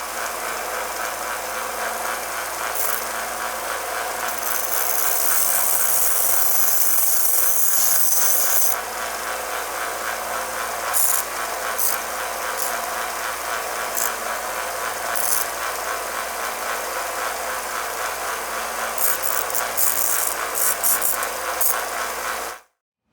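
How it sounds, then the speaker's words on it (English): Small belt sander grinding down a burr on a fiberglass edge of a Humvee rear curtain, a steady loud rasping whir that runs unbroken for over twenty seconds with brief gritty flares, then cuts off. "I think I'll use the little belt sander for that"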